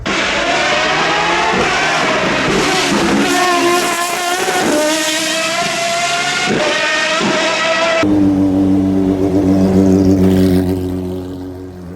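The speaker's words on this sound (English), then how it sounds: "The Solus GT is easily in the top 3 best sounding cars at Goodwood" A Solus GT with a V10 engine revs hard at Goodwood, loud and close, its pitch sweeping up and down through repeated throttle blips before settling into a steady, lower drone.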